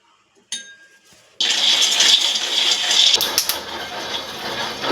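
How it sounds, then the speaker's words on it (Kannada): Raw peanuts are tipped into a hot pan for dry roasting in a home kitchen, with a short clink followed by a sustained loud rattling hiss as the nuts scatter and tumble. "ಈಗ ಕಡಲೆಬೀಜ ಹಾಕ್ತಾ ಇದ್ದೀನಿ."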